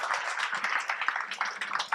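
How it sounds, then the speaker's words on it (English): Audience at an entrepreneurship workshop panel claps for the speakers, a fairly quiet, fluttering patter of hands from a modest crowd. "Can we please give a round of applause to our incredible entrepreneurs?"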